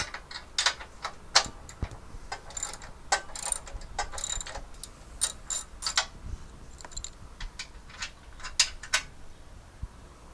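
An 18mm socket on a hand ratchet loosening the front bumper nuts of a Jeep JLU Rubicon, giving close, rapid clicking pawl ticks in short bursts with brief pauses and no voices.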